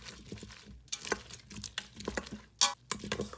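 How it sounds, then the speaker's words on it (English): Cheesy macaroni noodles being stirred hot with Fiesta cheese for Instant Pot mac and cheese, giving soft, uneven wet scraping and squelching of a spoon through the thick mixture, up close with no talking. "I'm going to add my Fiesta cheese. I'm going to stir"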